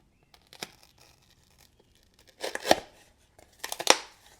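A fixed blade knife slices through cardboard: a faint early cut, then two louder, rasping tearing strokes near the end, close by in an otherwise quiet room.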